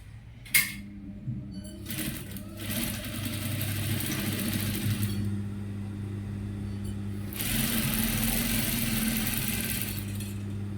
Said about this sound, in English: let me sew that. We are sewing 1/2 inches on the shoulder.